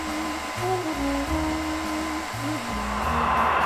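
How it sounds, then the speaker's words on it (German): A hair dryer blows steadily on a raw steak in a kitchen, a loud continuous motor whir with shifting low hum as the airflow changes, no talking. "Bei dem Föhn stehe ich in der Woche noch hier und föhne das Steak."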